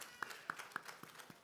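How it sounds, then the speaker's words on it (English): A children's Yom Kippur service congregation claps in a synagogue, with about six soft, steady rhythmic claps in a row, faint and even in pace. "so you can clap."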